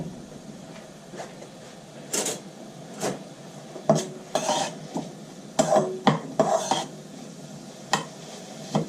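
Onions frying in oil in a pan for a Beef Madras, a soft continuous sizzle under repeated scraping and clattering stirs from a utensil, a dozen or so uneven strokes close by.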